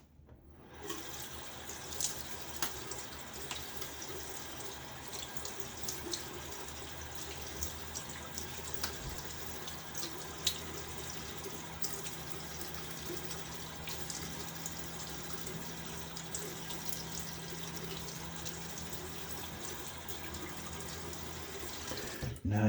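A razor is rinsed under running tap water after a shave, a steady, moderately faint hiss of flowing water that lasts the whole stretch, alone without talk.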